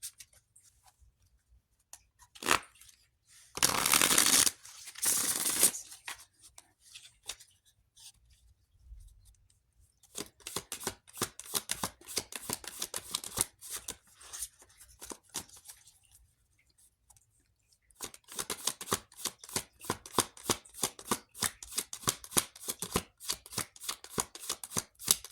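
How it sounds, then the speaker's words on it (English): Tarot cards being shuffled and handled close up: a loud riffle burst early on, then long runs of soft, rapid papery flicks and slaps with brief pauses between passes, with no talking. "So I'll go ahead and get started by pulling some tarot."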